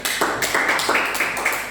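A church congregation claps together for God in a steady rhythm of loud, close hand claps at about four beats per second, with no voices over them.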